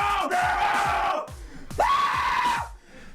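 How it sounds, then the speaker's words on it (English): A man screams on a played video in two long, strained, high-pitched bursts separated by a short break, loud and raw, with a rumbling low background beneath. "He screams."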